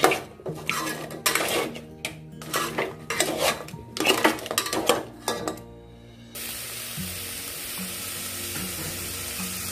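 Crabs for a crab curry are stir-fried in a pan: a spatula scrapes and clatters against the metal in rapid bursts, then a steady hiss of frying takes over.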